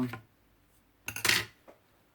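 Scissors snipping off the excess edge of a piece of packaging card being made into a display case: two short crisp cutting bursts, close and fairly loud, with a faint click between and after, no talking.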